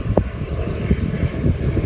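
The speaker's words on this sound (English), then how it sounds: "Oh, hello, helicopter." A silvery helicopter flies overhead, a low rumbling drone with rhythmic pulsing, heard outdoors over wind buffeting the microphone.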